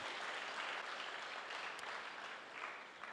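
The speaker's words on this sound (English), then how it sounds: "Let's give them a clap for opening their home to us." Steady applause from a church congregation for the hosts of a home gathering, a dense even wash of clapping that holds throughout and fades slightly at the end.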